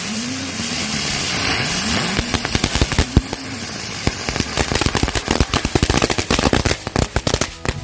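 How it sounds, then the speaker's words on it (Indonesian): A lotus-flower spinning firecracker goes off close by, opening with a whirling whistling whine that rises and falls, then breaking into a long, loud, rapid run of sharp crackling bangs that grows denser toward the end. "selanjutnya kita nyalakan mercon bunga teratai seperti gangsing nih guys"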